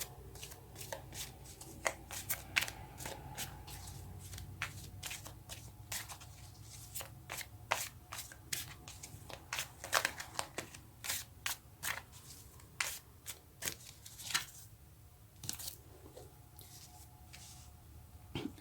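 Tarot cards being shuffled by hand, close and quiet, with a steady run of crisp riffling flicks and soft slaps of the card stack repeating throughout.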